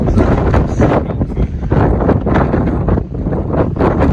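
Strong wind in open Patagonian country buffets the microphone in heavy, uneven gusts, a loud, rumbling roar that surges and dips throughout.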